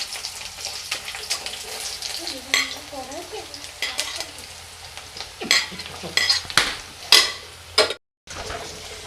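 Chopped ginger frying in hot oil while a spoon stirs it, giving a steady close sizzle broken by scraping stirs and a few sharper clinks against the pan.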